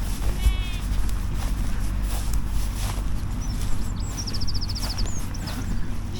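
Sheep and lambs bleat from a British pasture on a working farm, with broadband wind and field rumble throughout and a few faint, intermittent calls.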